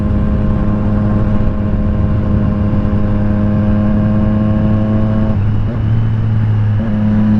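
A 2020 Triumph Street Triple RS motorcycle engine drones loudly and steadily, with a brief dip in pitch near the end as a gear change comes through.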